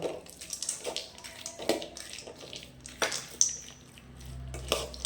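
Roasted peanuts tumble into sautéed mango in a pan, giving a scattered run of light clinks, scrapes and soft rattles at moderate volume, with no talking.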